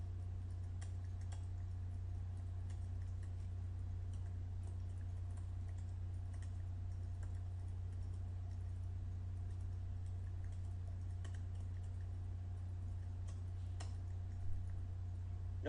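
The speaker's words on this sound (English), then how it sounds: "I've got some text prepared that I'll type in now." Typing on a computer keyboard, a steady run of soft, faint key clicks over a constant low hum, with no talking.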